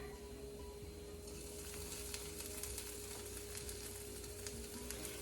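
Garlic and poblano peppers sauté in a pan, a faint, even sizzle that swells slightly as the peppers go in, with a few small crackles and no talking.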